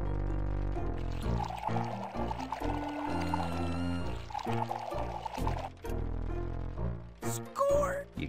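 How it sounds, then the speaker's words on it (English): Purification solution pours into a town's water supply in the Western comedy adventure game Freddy Pharkas, a liquid pouring effect over a steady, tonal musical score that runs throughout. "You carefully pour the purification solution into the town's water supply."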